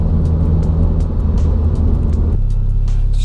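A turbocharged Toyota MR2 pulls hard in second gear with heavy wheel spin, its engine a loud, steady low rumble that drops in tone near the end as the pull eases off.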